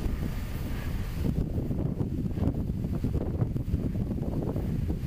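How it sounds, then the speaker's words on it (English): Strong outdoor wind buffets the microphone in a steady, heavy rumble while a scratch-built RC plane flies, gusting a little stronger partway through. "Oh, the wind's really kicking up now"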